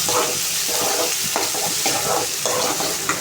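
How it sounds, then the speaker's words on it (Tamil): Tomatoes sautéing in a hot pan give a dense, close, steady sizzle broken by soft repeated stirring scrapes. "இப்போ வந்து தக்காளி ஆட் பண்ணிக்கலாம் நிமிஷம் வதங்கட்டும்"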